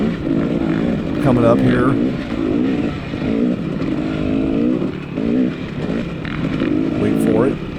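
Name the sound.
KTM dirt bike engine during a race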